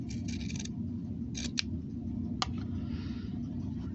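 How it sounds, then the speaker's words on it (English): Scissors cut sewn quilting fabric apart along a center line: a few quiet, crisp snips and clicks at irregular intervals over a low steady background hum. "Going to cut that apart right on that center line."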